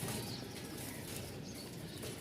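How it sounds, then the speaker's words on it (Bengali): Rajshahi pigeons flutter their wings and coo softly at a pigeon market, with a continuous faint rustle of flapping and murmured calls in the background. "ওইটা রাজশাহীর কবুতর এগুলো সব"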